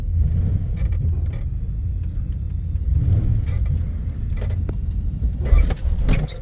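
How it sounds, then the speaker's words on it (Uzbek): A car with an automatic gearbox pulls away and drives off, a low engine rumble rising and falling close by, with a few light rattles and clicks from inside the cabin. "Mashina qibirilib ketyapti."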